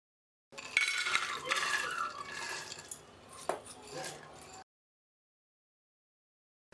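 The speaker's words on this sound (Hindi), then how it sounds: "इस कुकर में हम धोए हुए राजमा और उड़द की दाल को डाल लेते हैं।" Washed kidney beans and urad dal are poured into a pressure cooker on a gas stove. A close clattering, rattling pour of hard grains and water runs for about four seconds, then goes silent.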